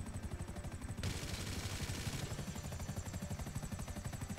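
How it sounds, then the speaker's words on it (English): Helicopter in GTA 5 Online, a close rhythmic rotor chop with a turbine whine throughout and a louder burst of noise in the middle, no talking. "yeah, it's a helicopter."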